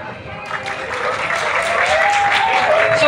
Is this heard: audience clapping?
yes